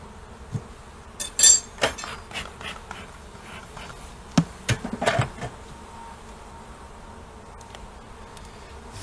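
Honeybees buzz in a spring colony as the lid of an overwintered hive is set aside, a soft continuous hum with brief clinks of equipment.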